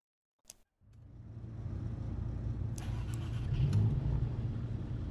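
Audi race car engine in the racing game Assetto Corsa Evo, a brief click then a steady droning engine note that swells slightly as it builds, close and continuous with no talk.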